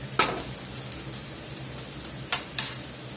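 Onions cook in a pan with a faint, steady sizzle, broken by a few sharp clicks of stirring or utensil taps, with no talking.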